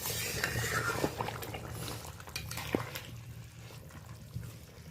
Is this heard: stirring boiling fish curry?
yes